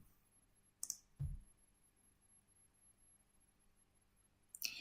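A computer mouse gives a few sharp, faint clicks separated by long quiet gaps, in an otherwise near-silent room.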